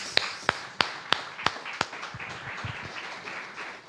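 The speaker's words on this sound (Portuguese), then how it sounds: "Palmas ao Rei dos Reis." Scattered claps from a church congregation at a Portuguese-language service, a handful of sharp, evenly spaced hand claps ringing out clearly before fading into a softer room murmur and light shuffling.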